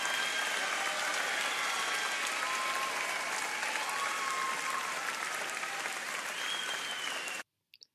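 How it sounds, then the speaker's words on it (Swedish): An audience applauds a political speech, dense steady clapping from a large crowd for about seven seconds that then cuts off abruptly. "Ja, de applåderar nu"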